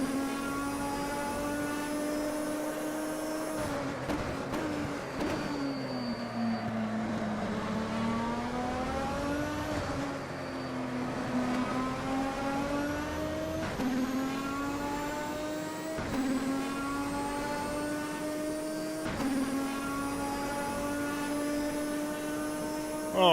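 GT3 race car engines in the racing game Automobilista whine continuously at Imola, pitches rising and falling as they shift gears, a steady loud roar throughout with no talking.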